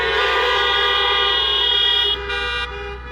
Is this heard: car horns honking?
yes